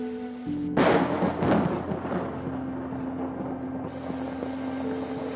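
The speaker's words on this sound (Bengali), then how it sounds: "রবিবার শিলিগুড়িতে ঝেঁপে বৃষ্টি, রাস্তায় জল।" Heavy rain pours down in Siliguri, a dense, loud broadband rush that starts abruptly after a brief low hum and holds steadily for several seconds.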